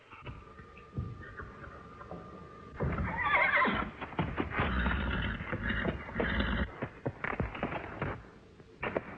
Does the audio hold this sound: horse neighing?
yes